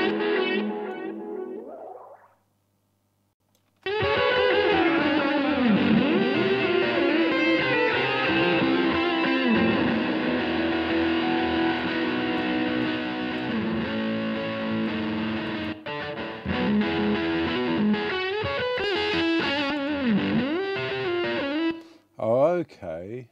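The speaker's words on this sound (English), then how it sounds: "So I noticed yesterday they had a very nice tape delay." Tape delay effect from the IK Multimedia T-Racks 5 plugin, applied to a mix of a song; loud, dense music with distorted, echoing repeats runs almost continuously after a brief opening phrase and a short gap.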